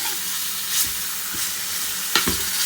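Chicken cooks with chili flakes, salt, garlic powder and oregano in a hot pan, a continuous loud close sizzle broken by a few brief stirring scrapes, no talking.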